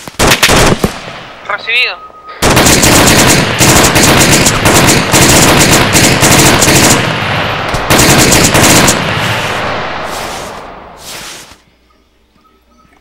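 Loud sustained automatic gunfire and rapid shots in the military shooter Arma 3, dense bursts dominating most of the stretch, with brief radio-style voices at the start and fading fire toward the end.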